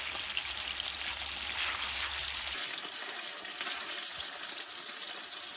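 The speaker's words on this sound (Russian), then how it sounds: "Я это в первый раз такие стейки жарю." Beef steaks in a marinade sizzling steadily in a pan in a Siberian log cabin, a dense continuous crackle that grows slightly quieter and thinner partway through, with no talk.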